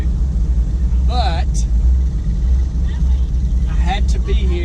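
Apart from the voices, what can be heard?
car engine rumbling, Baby D at Memphis International Raceway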